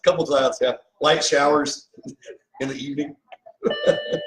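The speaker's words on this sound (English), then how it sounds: "That's my alarm. My big alarm." An alarm chimes out in a steady tone over the final second, cutting in while people chat about the weather nearby; the tone is clear but brief and sits beneath the conversation.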